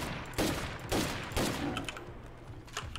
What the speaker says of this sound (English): Thankfully, we have Laser Kiwi with the Magnum gun